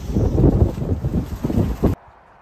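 Strong gusty wind after a severe windstorm buffets the microphone outdoors behind a house carport, a loud low rumbling roar that cuts off abruptly near the end.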